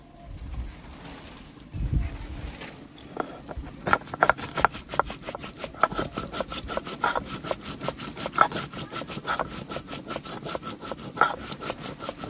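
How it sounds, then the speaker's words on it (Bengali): Cumin and chili being ground on a grinding stone: a steady run of rough, rhythmic scraping strokes, close and fairly loud, with a few heavier thumps early on and faint bird cooing in the background. "জিরে মরিচটা বেটে নেব"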